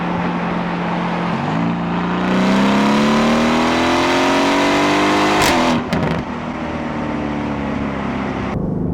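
An Aston Martin V8 Vantage revs hard and loud, its engine note climbing steadily. Then comes an upshift with a sharp exhaust pop and crackle, and the engine settles into a lower drone.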